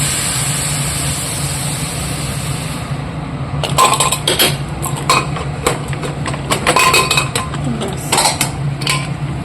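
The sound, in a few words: pot of curry being placed on the stove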